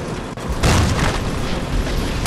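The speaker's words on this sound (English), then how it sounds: "Fireballs! Great balls of fire!" Heavy booming fireball explosions in the platform game Blood of the Werewolf, a sharp burst followed by a loud, sustained rumbling roar that stays close and fills the clip.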